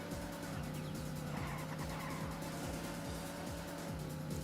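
Tires squeal and skid on a car under handbrake in Daytona USA on the Sega Saturn. The screeching repeats over a continuous engine whine, and game sound effects play loud throughout.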